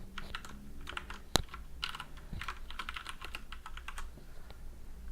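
Rapid typing on a computer keyboard, irregular clusters of close key clicks with one sharper louder keystroke, steady and near with no talking.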